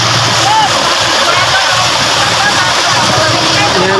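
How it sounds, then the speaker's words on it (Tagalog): Waves wash and splash continuously along a shoreline beside a damaged wooden boat, a steady loud rushing of water close by, with voices faintly audible underneath. "may alon po sa tabihan"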